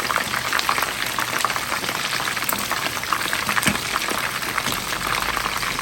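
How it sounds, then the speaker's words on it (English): Chicken frying in hot oil gives a steady, dense sizzle with constant crackling and popping, close and fairly loud throughout. "Currently frying some chicken."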